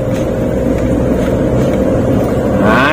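Suzuki Karimun Wagon 1000cc car engine pulling uphill in second gear at about 3000 rpm, a steady loud drone with wind rush over the microphone throughout.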